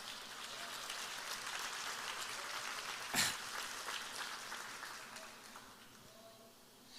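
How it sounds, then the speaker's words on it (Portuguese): A church congregation applauds in a sustained wash of clapping that holds steady for several seconds, then gradually thins out toward the end. "Como diz o pastor Flavinho, se é para Jesus, você pode aplaudir mais alto."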